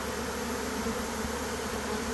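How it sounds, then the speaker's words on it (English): A dense, steady buzz from a honeybee swarm pouring out of a beehive in a bee yard, loud and close, with a continuous drone and no pauses. "They just come pouring out of that beehive."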